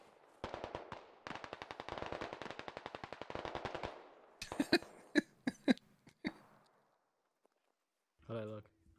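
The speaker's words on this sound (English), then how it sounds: "Oh, gunshots?" Video game gunfire: a rapid automatic burst of shots, followed by several separate, sharper single shots, then a short stretch of voice near the end.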